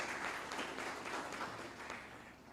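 Audience at a property-sector research colloquium gives a round of applause, a steady wash of many hands clapping at a moderate distance, fairly soft and slowly fading, with no talk over it.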